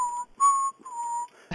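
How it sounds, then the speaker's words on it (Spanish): A person whistling three sustained, steady tones in quick succession, clear and close with brief gaps between them, ending on a short thump. "a ver si sirve silbar"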